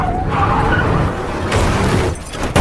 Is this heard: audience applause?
no